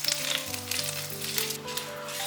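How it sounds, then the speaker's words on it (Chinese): Sichuan peppercorns and dried chilies sizzle steadily in oil over low heat, a continuous close crackle with no voices. "冷油放进来，慢慢煸香。"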